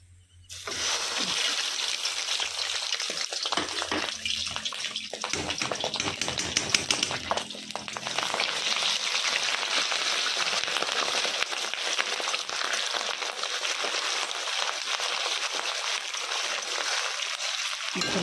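An egg dropped into hot oil bursts into loud, dense sizzling and spattering crackle that runs on steadily for many seconds, close and continuous.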